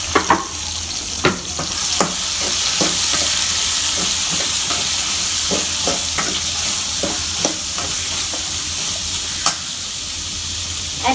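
Chopped onion and dried red chilies fry in a hot pan for a coconut sambol, giving a steady loud sizzle and hiss with repeated clinks and scrapes of stirring throughout.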